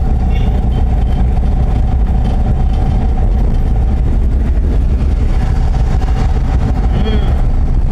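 A vehicle engine drones steadily while driving on a road, with a loud, constant low rumble of the engine and road noise throughout and no breaks.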